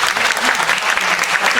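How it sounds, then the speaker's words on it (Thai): An audience at a seminar claps together in a dense, steady burst of applause, close and fairly loud, lasting under two seconds. "ขออนุญาตขอเสียงปรบมือให้กับ"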